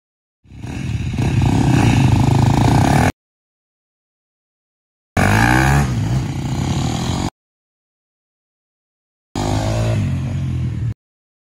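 A KTM 250 enduro dirt bike ridden through the woods roars in three separate bursts of steady, loud two-stroke engine drone, each lasting a few seconds and separated by silence.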